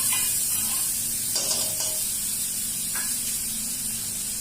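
Butter hits a hot pan holding marinated lemon pepper chicken, giving a steady loud hiss and crackle close by, with brief bursts of stirring and spattering and no talking.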